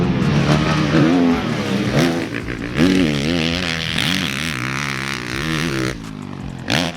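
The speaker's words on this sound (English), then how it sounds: "It's not a loud motorcycle either, especially with that Yoshimura muffler." A 2022 Honda CRF450R Works Edition motocross engine with a Yoshimura muffler revs up and down repeatedly, its pitch rising and falling with throttle blips, steady and fairly loud throughout with a brief lull near the end.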